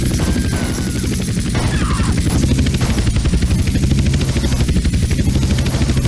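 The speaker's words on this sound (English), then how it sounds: "First up, the impossible helicopter races." A helicopter races in the video game GTA San Andreas, its rotor chopping loudly and steadily throughout with a constant high turbine whine above it and no voices.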